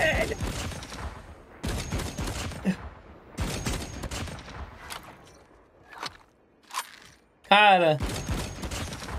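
Weapon fire from the mobile shooter game Call of Duty Mobile crackles in several sharp bursts separated by quiet gaps, with a brief electronic effect near the end and a short spoken word in between.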